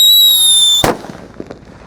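A small Happy Power firework goes off once with a sharp, loud bang after a brief high whistle, followed by scattered crackles and pops fading out over the next second.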